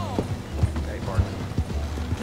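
Horse hooves clip-clop in a few spaced thuds in the video game Red Dead Redemption 2, close and moderately loud, with someone talking over them.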